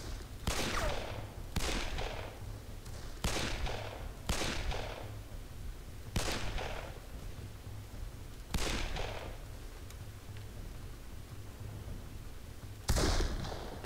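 Gunshots in the video game Darkest of Days, about six loud, sharp reports spaced a second or two apart over a low steady background rumble, with one final shot near the end.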